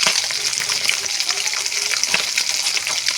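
Snakehead fish sizzles in hot oil in a pan, a steady dense crackle with sharper pops scattered throughout, close and continuous with no talk.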